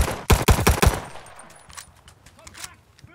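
A short burst of machine gun fire in the video game Call of Duty: Vanguard, five or six loud, close rounds in rapid rhythm, followed by fainter scattered shots and battle noise in the background.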